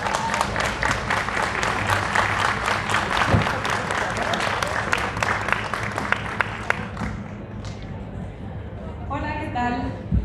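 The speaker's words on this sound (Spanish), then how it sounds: "Recibámoslos con un fuerte aplauso" Loud, dense applause from an audience welcoming the speakers at a book presentation of Necropolitana at the FIL Zócalo book fair, sustained for about eight seconds before fading as a voice begins talking over it.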